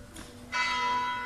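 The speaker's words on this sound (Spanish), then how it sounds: "Y las campanas de la iglesia." A church bell in La Garriga strikes loudly after a quiet moment, its bright metallic ring lingering and sustaining to the end.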